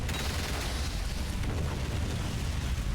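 An explosion in the Xbox 360 game 007: Quantum of Solace: a dense, sustained roaring blast with heavy low rumble, steady and loud throughout, no talk.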